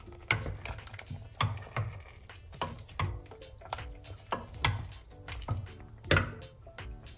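A spoon knocks and scrapes against a pot as someone stirs homemade fresh tomato sauce. The clinks come in a loose, irregular rhythm, close and fairly quiet, with no talking.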